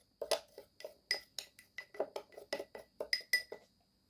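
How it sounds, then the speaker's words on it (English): A spoon or whisk stirring dry ingredients with turmeric powder in a bowl, giving about a dozen crisp clinking and scraping strokes in a quick, fairly even rhythm, close and alone. "Mix the dry ingredients together very well."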